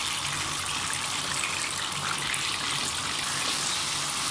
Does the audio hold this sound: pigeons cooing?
no